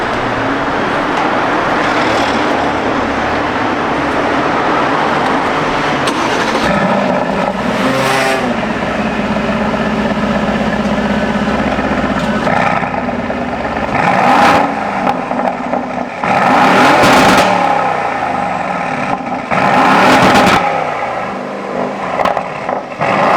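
An AMG engine in an Aston Martin runs loudly throughout, with several sharp revving surges in the second half over a steady rumble.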